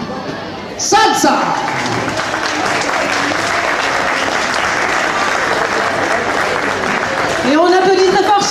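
An audience claps loudly after a short salsa dance step by two performers, the applause swelling and holding steady, with a voice speaking briefly at the start and again near the end.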